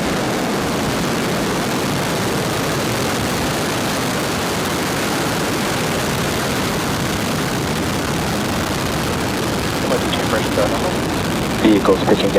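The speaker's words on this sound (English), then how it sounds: "Ignition and liftoff. Go Falcon." Falcon 9 rocket ignition and liftoff: a loud, steady, broadband roar that holds for the whole stretch and grows slightly rougher near the end, with voices over it.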